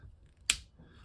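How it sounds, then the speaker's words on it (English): A single crisp snip from the regular scissors on a modded Victorinox Cyber Tinker Compact multitool, one short sharp cut close up in an otherwise quiet room. "regular Victorinox scissors cuts like a champ"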